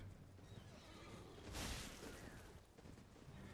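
A horse in Elden Ring, ridden by a mounted enemy guard on the Weeping Peninsula, lets out a whinny that swells to a loud burst midway, over a steady bed of game ambience and rumble.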